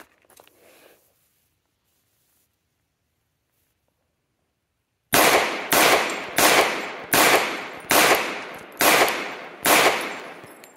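A Kimber Ultra Carry II pistol empties a full magazine, seven loud sharp shots fired at an even rhythm after a few seconds of near silence, each crack ringing briefly before the next.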